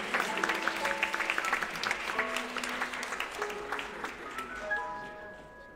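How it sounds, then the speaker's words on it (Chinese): Wedding guests clap for groomsmen and bridesmaids at a church ceremony, a sustained burst of applause that slowly thins out while music notes ring over it. "让我们掌声欢迎他们。"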